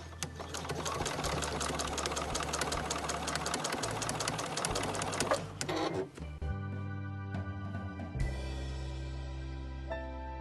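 A sewing machine stitches along a fold of denim scraps, its motor whirring in steady runs with a rapid needle chatter, pausing briefly and then restarting near the end.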